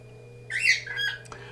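A pet bird gives a single loud, harsh squawk close by, a rising and falling cry lasting under a second, followed by a fainter short call above a steady electrical hum.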